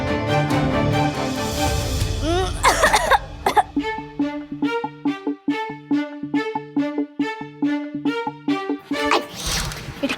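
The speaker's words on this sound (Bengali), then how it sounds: "এটা কেমন কাশি টাইমিং?" A loud, harsh cough bursts out in a TV drama scene over a busy background. A plucked, stepping musical sting follows and carries on to the end.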